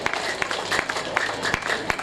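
Audience clapping for sports winners at a school centenary sports meet, a steady dense patter of many hands sustained throughout with a few sharper claps standing out.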